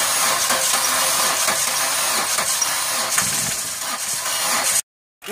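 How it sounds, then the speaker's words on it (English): A car engine with a broken timing belt and a bent valve in the number one cylinder runs rough, giving a steady, loud, noisy churning hum close by that cuts out abruptly near the end. "This is the engine running and sound like crap."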